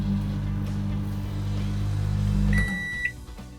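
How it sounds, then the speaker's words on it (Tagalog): A microwave oven hums steadily while heating a vinegar mixture, its low drone running about two and a half seconds before stopping, followed by a couple of bright electronic beeps. "nilalagay ko muna sa microwave"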